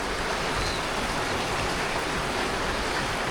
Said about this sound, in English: So now with this rain coming